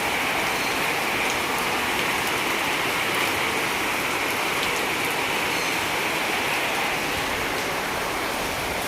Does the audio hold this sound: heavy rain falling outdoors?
yes